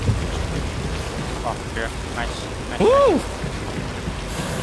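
Rain in the video game Hunt: Showdown forms a constant dense wash that covers the whole stretch at an even loud level. Excited speech and a short whoop rise over it.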